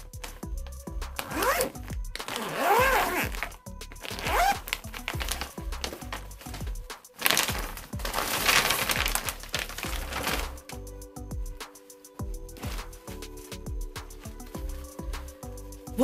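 A zipper is drawn open in several rasping pulls on the packaging of a new blanket, followed by crinkling plastic and handling sounds, all close up.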